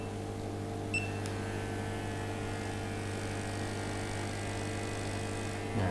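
An ozone generator used for disinfecting homes and cars blows air with a steady, faint motor hum and airflow that stays constant throughout.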